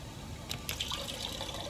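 Underwater bubbling in the Soma video game: a few soft bursts of bubbles and gurgles rise over a low rumbling background, quiet and close, with no talking.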